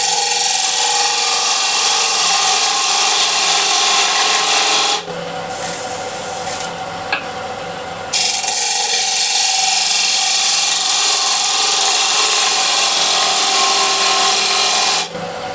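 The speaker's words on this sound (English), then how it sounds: "when we go across the grain here into the end grain with the gouge" A gouge cuts across the grain and into the end grain of an 11-inch osage orange bowl spinning on a lathe. The steady, loud rasping scrape is broken by a short softer pause, then resumes at full strength.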